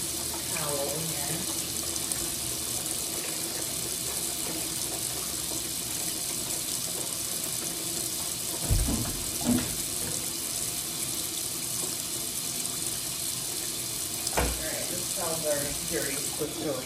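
Water runs steadily from a tap while seed starting trays are rinsed, a constant hiss with a few louder splashes and clunks partway through, as a person talks occasionally over it.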